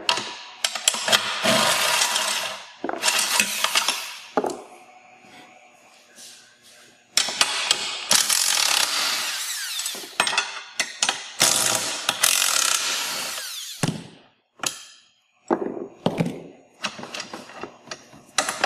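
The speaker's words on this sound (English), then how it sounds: "we're going to remove the 2 internal scrapers." Plastic toy track parts of a Track N Go set being taken apart, with repeated ratcheting clicks, snaps and rattling mechanism noises in bursts, close up and fairly loud, separated by brief pauses, with no speech.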